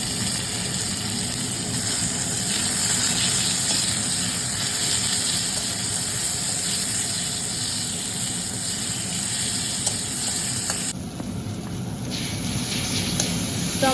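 Tomatoes and garlic fry in a pan for egg curry, holding a constant loud hiss and sizzle close by that changes briefly near the end.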